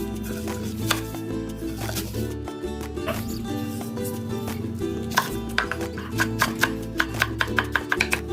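A knife chops spring vegetables on a cutting board, cutting them into pieces about 5 cm long, with a steady low background under the cuts and a fast run of crisp, evenly spaced chops near the end.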